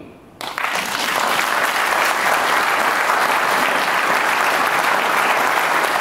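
Steady, dense applause from an audience filling a hall at a political movement launch, breaking out suddenly after a brief quiet moment and holding loud and even to the end.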